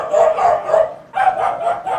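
A dog sample plays through DJ software as a quick series of sharp, close barks, two clusters of three or four yaps separated by a brief pause, loud and without talk.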